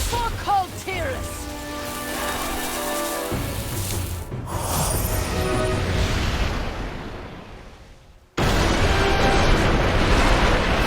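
An explosion in World of Warcraft rumbles loudly, then a broad roar fades and cuts to a steady noisy wash, with talk at times.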